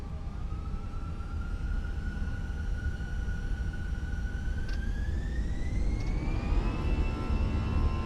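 Airliner jet engines spooling up for takeoff in a flight simulator, a steady loud roar with a rising whine that climbs in pitch as thrust builds, continuous and close throughout.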